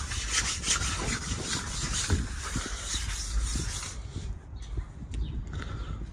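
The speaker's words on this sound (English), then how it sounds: "you're going to rub your panel down like this" A primed car body panel coated in guide coat is rubbed down by hand, giving a steady, close abrasive scrubbing that continues for several seconds before easing into softer, intermittent strokes.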